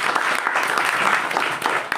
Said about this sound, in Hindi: तो दोस्तों के लिए तालियां हो जाए।